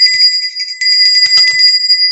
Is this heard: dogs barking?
no